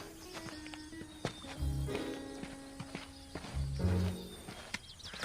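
Horse hooves clip-clopping at a walk, a series of close, distinct knocks in an uneven rhythm, with a few soft snorts and quiet ambient sound around them.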